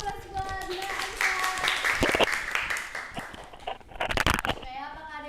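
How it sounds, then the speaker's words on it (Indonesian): Applause breaks out in a classroom microteaching session for a student named Aisyah, a ragged burst of clapping from several hands that rises and falls over a few seconds with voices mixed in. "Kita kasih aplaus buat Mbak Aisyah"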